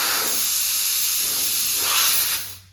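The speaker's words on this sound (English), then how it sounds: "it goes a lot quicker if you remove the valve core" Air rushing out of a wheel's tire valve with the valve core removed, a loud steady close hiss that holds for over two seconds before quickly tapering off.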